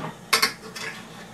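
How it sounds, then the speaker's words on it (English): A spatula stirring spices in a pan, two quick metallic scrapes close together followed by a softer scrape, short and close with no talking. "Now we're gonna stir this about with a spatula for even distribution of the"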